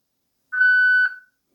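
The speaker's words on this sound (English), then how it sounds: "Begin your recording after the tone" A single voicemail recording tone, a clean steady beep lasting about half a second with a short fading tail, alone against silence.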